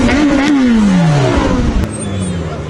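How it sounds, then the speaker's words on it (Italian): A Ferrari F430 Spider engine revs in a loud, sweeping rise and fall of pitch, close by, with crowd chatter beneath it. "qua i proprietari delle Ferrari si divertono anche a far sentire i motori"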